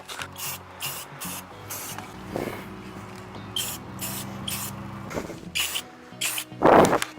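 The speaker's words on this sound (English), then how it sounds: "Okay. I think if I spray hard enough, I can get all that." Repeated bursts of gloss black aerosol spray paint hiss in short pulses, some long and some quick, close by with no talking.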